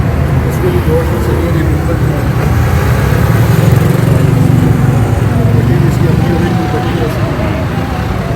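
A white Suzuki FX car with a dual petrol and gas engine runs with a steady low rumble close by, while someone talks loudly over it throughout.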